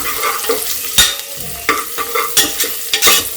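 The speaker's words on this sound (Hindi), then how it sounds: "अब इसको भी भून लेंगे हम।" Onions sauté in a pan with chili and turmeric powder for a mushroom curry, heard as a close sizzle broken by rhythmic spatula scrapes and knocks roughly every half second.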